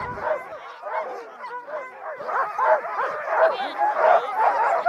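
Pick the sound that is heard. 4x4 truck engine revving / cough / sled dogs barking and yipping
sled dogs barking and yipping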